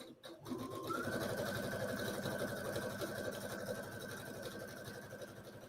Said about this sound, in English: I'm just going to sew about a 1/4 inch seam allowance all the way down.